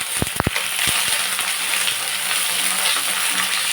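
Brinjal sizzles in hot oil for a dry fish curry after mustard seeds and curry leaves go in, with a few sharp clinks of a utensil at the start, then steady frying hiss.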